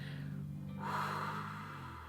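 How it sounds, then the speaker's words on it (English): A single sharp inhaled breath in a demonstration of breathing before gently blowing out, close and alone, rising midway and trailing into a steady soft exhale. "you're going to take a breath in"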